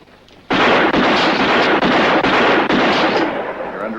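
Gunshots from a cowboy's revolver in a western movie: a loud, dense barrage of rapid shots with short breaks, filling about three and a half seconds before easing off slightly.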